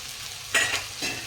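A spoon gently stirring vegetable pulao in a pan after coriander is added, two brief scraping swishes over a soft steady background hiss, close and without talk.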